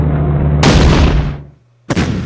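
Tank gunfire in the World War II strategy game Battle Academy comes as a loud, heavy booming blast that decays, then a second abrupt shot after a short gap.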